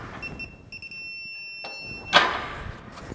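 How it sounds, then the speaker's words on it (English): A few short electronic beeps from a torque wrench chirp in a quiet workshop space during disc drill depth adjuster repair, followed by a brief clunk of metal. "until we start getting a good solid beep on our torque wrench"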